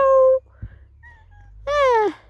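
Cats approaching along a dirt path beside a stream, with a short tonal cry near the start and a longer, downward-sliding meow near the end, close and clear against a quiet outdoor background.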